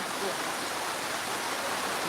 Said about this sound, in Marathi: खूप मोठा पाऊस सुरू आहे या ठिकाणी आणि लोटच्या लोट पाण्याचा वाहतोय बघा